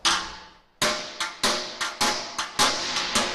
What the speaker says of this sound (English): I've got my wee hammer.